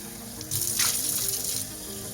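Tap water runs into a sink for a little over a second while a cup is rinsed out, a close, hissing splash with no talking.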